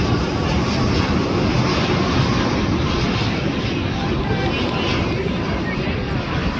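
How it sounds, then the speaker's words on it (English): A Hawaiian Airlines Airbus A330-200 from Kona lands at LAX, a loud, continuous broadband engine roar and rush that holds steady throughout without letup. "Hawaiian Airlines from Kona, the Big Island. A330-200, nicknamed Butter Machine."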